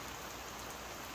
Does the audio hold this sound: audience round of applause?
no